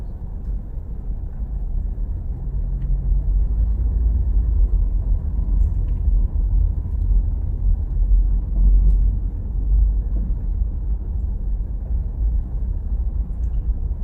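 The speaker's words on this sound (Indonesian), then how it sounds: "Harus bersabar karena kondisinya kendaraan sangat padat saat ini." Dense heavy traffic on the Jakarta-Tangerang toll road, heard as a steady low engine and tire rumble that holds constant throughout, with no talking.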